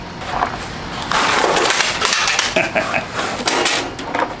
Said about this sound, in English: Let's open up our screw nut gun.